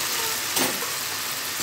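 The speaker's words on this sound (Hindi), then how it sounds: "अब इसमें मैं बारीक कटी हुई टमाटर डालूंगी।" Finely chopped tomatoes going into browning onions in a pan, giving a continuous close sizzle with a brief louder burst as they land.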